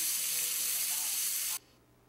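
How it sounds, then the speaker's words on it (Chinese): Foie gras frying in a hot pan gives a loud, steady broadband sizzle that cuts off abruptly near the end, leaving quiet background. "可惜摄影机拍不出鹅肝的香气，只能让你听听煎鹅肝的声音"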